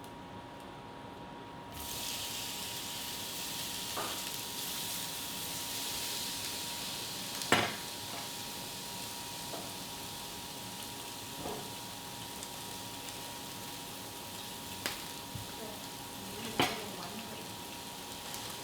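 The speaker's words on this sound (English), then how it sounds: "Then we'll go ahead and throw all of these onions in here as well." Onions sizzle in a hot frying pan, a steady bright hiss that starts abruptly and holds throughout, broken by a few soft clicks and taps of stirring.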